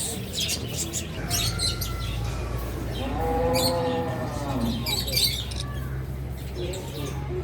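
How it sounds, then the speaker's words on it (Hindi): Parrots call at a large cow hospital in Nagaur, Rajasthan: a few harmonic, squawking calls rise mid-clip over a steady, noisy outdoor background, with other birds chirping briefly. "ये पैरट्स।"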